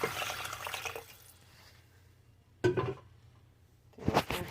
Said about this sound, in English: To our mixture, we're gonna add some water.